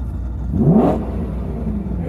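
BMW M3 engine idling, a loud close low rumble that swells briefly into a rising rev before settling back to a steady idle, with no talking.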